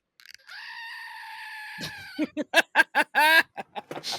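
A goat bleat sound effect used as a game-show buzzer: a long, nasal bleat sounds alone, followed by a rapid string of loud, choppy bleating bursts and squawks, close and sharp.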